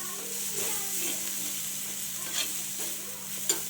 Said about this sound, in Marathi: आपल्याला हे परतच राहायचं आहे एक दोन ते तीन मिनटासाठी